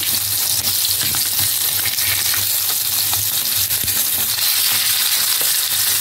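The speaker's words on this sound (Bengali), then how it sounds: "এইভাবে আমি উল্টে পাল্টে বাকিগুলো ভেজে নেব।" Capsicum slices being flipped in a frying pan keep up a dense, even sizzle, with soft taps and crackles as they are turned over.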